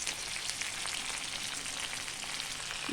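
Fish fries in hot oil with curry leaves, giving a steady, soft, even sizzle throughout with no talking.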